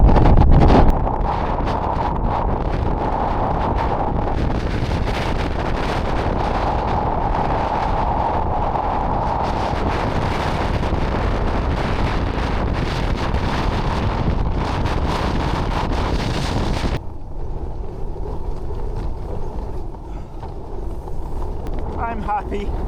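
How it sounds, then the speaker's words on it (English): Strong wind of around 40 mph roars across the top of a Nortent Varde 1 tent, a dense continuous rushing buffet close to the microphone that drops off abruptly near the end, with a person talking over it. "That's blowing 40 right across the top of the tent."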